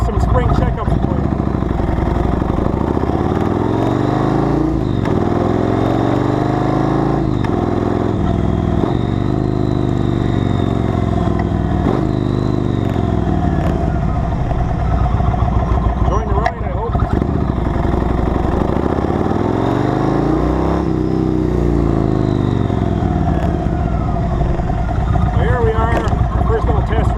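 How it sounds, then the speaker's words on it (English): A Yamaha Road Star 1700 motorcycle is ridden, its engine a loud continuous rumble rising and falling in pitch as it speeds up and slows, with wind noise and a voice talking over it. "as we ride our Roadstar 1700 back to the house"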